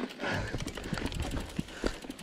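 A horse carries its rider, and the hooves clip-clop in an uneven walking rhythm, close and clear over soft rustling.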